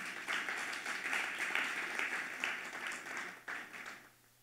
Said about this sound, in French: invitez-nous à applaudir encore une fois